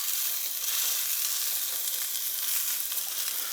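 Grease sizzles and fries steadily in a pan under breakfast bagel sandwich ingredients, a continuous close hiss with no pauses.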